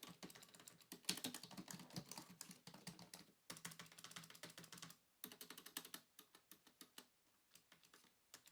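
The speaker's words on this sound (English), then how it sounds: "doing some mock typing as well to give you some idea of the sound or noise" Keys clatter on a Dell KB216 multimedia keyboard in quick bursts of mock typing, close and fairly quiet, broken by short pauses between runs of crisp clicks.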